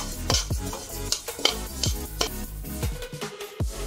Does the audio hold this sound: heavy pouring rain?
no